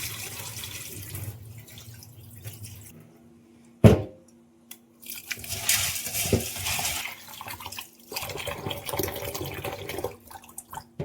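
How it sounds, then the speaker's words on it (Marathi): Mixed pulses and chana dal being rinsed in water, with splashing and sloshing bursts, a sharp clatter near the start, and rushing water sounds that continue close by. "कडधान्य आणि चण्याची डाळ स्वच्छ धुवून घेते."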